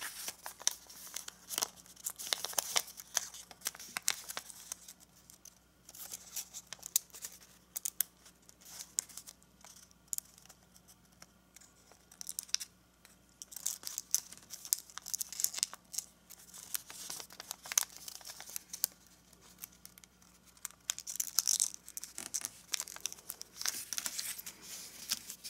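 Origami paper for an Easter basket is folded, creased and tucked into pockets, giving steady close crinkling and rustling with bursts of sharper crackle throughout and no talking.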